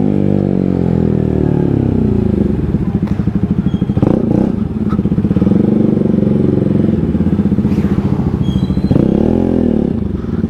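A Yamaha R15 motorcycle runs loud and close with a continuous engine drone that shifts pitch as it moves, then swells again near the end.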